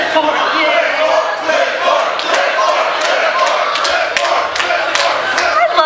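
An anime convention audience at opening ceremonies cheers and claps loudly, with energetic whoops and sharp claps rising over a continuous crowd roar and some shouted voices.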